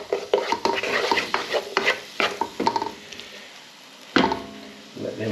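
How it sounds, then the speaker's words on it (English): Potatoes fry with garlic and chilli paste for an aloo gobi curry, as loud, busy stirring and scraping clatters over a bright sizzle, then eases into a quieter fry before one more sharp scrape. "now the garlic and chilli paste there, so just cook that off for a couple of minutes"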